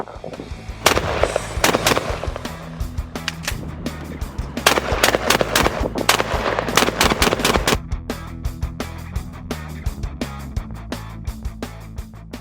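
Aksa S4 shotgun firing Winchester 1270 trap cartridges with 7.5 shot outdoors, a series of loud sharp reports spread across the stretch, with clusters of bangs and echoing decay between shots.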